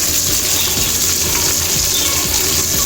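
Chopped coriander leaves hitting hot oil in a pot of chicken biryani, a loud, dense, close sizzle that hisses steadily for the whole moment without any voices.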